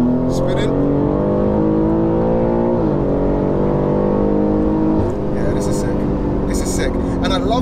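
A Stage 2 tuned 700 bhp BMW M3 G80 pulls hard in fourth gear, its engine droning loudly and steadily climbing in pitch with brief shift-like dips, heard from inside the car while someone talks over it.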